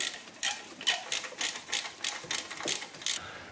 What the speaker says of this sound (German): Schrauben festziehen und gucken, ob der funktioniert.